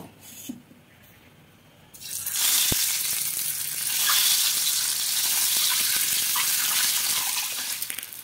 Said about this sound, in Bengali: এই তেলের মধ্যে দিয়ে ডিমগুলো ভেজে নেব।